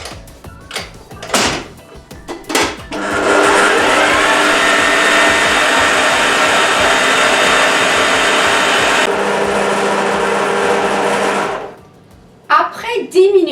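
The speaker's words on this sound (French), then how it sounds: "Bon, on va fouetter pour 2 minutes." An electric mixer whisks gâteau au chocolat batter in a loud, steady whir lasting about eight seconds, then changes pitch before stopping. Handling clatter comes before and after, and people speak around it.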